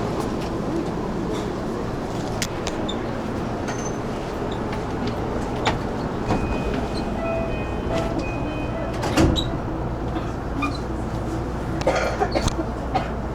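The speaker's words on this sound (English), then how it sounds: "Oh, this train is like super full, man." Constant rumble and rattle inside a packed train in Japan, close and loud, with scattered clanks and faint murmur of passengers.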